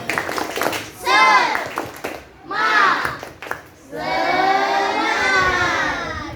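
A class of children repeats the 'tepuk semangat' clapping chant, loud rhythmic clapping blended with chanting young voices in short bursts, then a longer sustained group shout.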